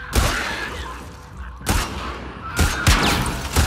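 Pellet gun in The Last of Us Part 2, several sharp loud shots spaced irregularly, each with a short reverberant tail over a background of game ambience.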